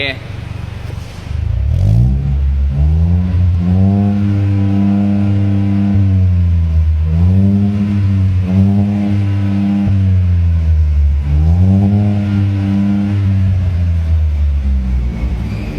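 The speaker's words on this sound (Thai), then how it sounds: "อ่ะเรามาฟังเสียงนะครับ ท่อ HK" A 2020 Honda City fitted with an HKS Legal carbon exhaust revs repeatedly, its engine note swelling and falling in several loud, close bursts over a steady idle rumble.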